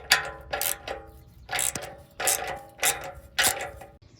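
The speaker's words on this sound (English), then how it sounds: "Just tighten these bolts very tight, and use a 15 millimeter long socket." A 15 mm long socket on a ratchet tightens the muffler bolts of a Walker SoundFX direct-fit muffler on a 2006–2013 Chevrolet Impala. About six close, crisp bursts of rapid ratchet clicking are heard alone, each followed by a short pause.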